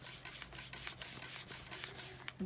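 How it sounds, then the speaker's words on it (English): A Sizzix tool burnished firmly over foil laid on adhesive, giving steady close scraping and rubbing strokes in a quick repeated rhythm, with no talk. "So I'm going to really burnish this in."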